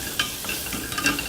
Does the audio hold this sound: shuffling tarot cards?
no